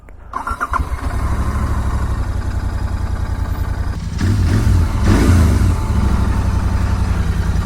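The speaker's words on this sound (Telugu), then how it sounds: "ఇంజిన్ రెవ్స్ ఉన్నాయి కదా, అది కూడా పికప్ చేసుకుంటుంది." A Royal Enfield GT650 motorcycle engine starts and settles into a steady throbbing idle, then revs harder in a louder, rising burst partway through, close and without talk.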